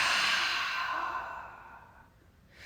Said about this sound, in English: On the exhale, open the mouth, exhale and release.